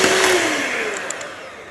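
Cream whipping with icing sugar and vanilla essence for a German poppy seed cake: a steady, close electric mixer whir with a motor tone that slides down, running alone throughout.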